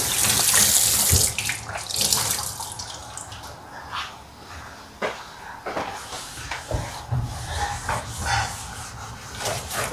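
Tap water runs loudly into a sink while a cleaning cloth is rinsed and wrung, with a steady close splash and occasional clatters, and no one talking.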